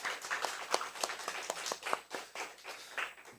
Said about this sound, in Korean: 오늘 오셨는데 한 박수로 환영해 주시죠.